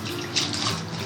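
Water runs steadily from a tap while wild greens from Konkan are rinsed, a close, continuous splashing hiss with slight bursts of sloshing.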